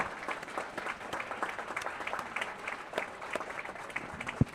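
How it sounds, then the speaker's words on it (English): Attendees at a residents' council meeting applaud, a soft steady patter of many hands heard from a distance, with a faint murmur beneath and a single louder knock near the end. "So I think we should applaud them."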